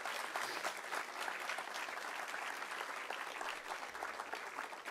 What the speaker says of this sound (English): Please give them a round of applause and make them feel welcome.